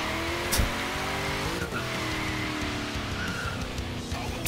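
Car tires squeal and skid in Forza Horizon 3, a BMW E34, with engine drone throughout and a sharp screech near the start, loud and close with no talking.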